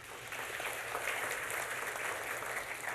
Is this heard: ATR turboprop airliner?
no